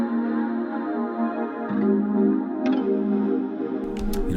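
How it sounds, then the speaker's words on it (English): The Blow Selena synth pad from Omnisphere holds soft, sustained, airy chords that shift partway through, layered with a breathy shimmer and a few faint high clicks near the end. "And I'm combining that with the Blow Selena pad."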